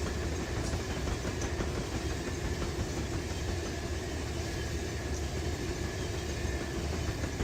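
Another train rolling past in the Run 8 train simulator game, set around Los Angeles: a loud, continuous rumble and rattle of rail cars, with faint clicks, holding steady throughout and with no speech.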